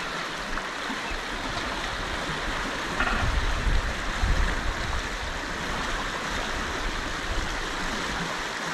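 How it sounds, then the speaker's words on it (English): The Avon River in Western Australia's wheat belt, heard from just below a bridge, gives a steady broadband rush of flowing water, constant and fairly loud, with a slight swell midway and no voices. "So, it's the mighty Avon River."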